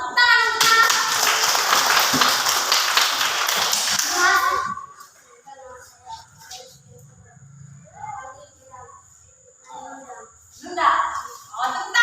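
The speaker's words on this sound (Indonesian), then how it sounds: "tepuk tangan semua" Schoolchildren in an elementary classroom clap together in a loud, dense burst for about four seconds, then it stops and children's voices and chatter carry on quietly.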